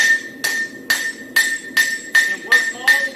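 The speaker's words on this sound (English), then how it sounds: "So I'm going to bring my hammer blow in at this angle" A farrier's hammer strikes a hot horseshoe on an anvil while shaping a concave hind shoe into a front, seven sharp ringing blows in a steady rhythm with brief pauses between.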